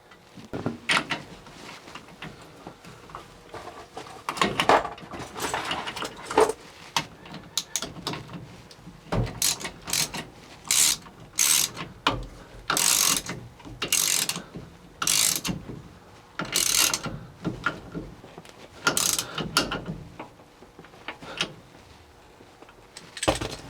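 Nut being tightened onto the turn signal switch of a 1960-66 Chevy/GMC C10 truck with a ratchet, heard as close, bursts of metallic clicking and ratcheting that repeat irregularly with short pauses, no talking.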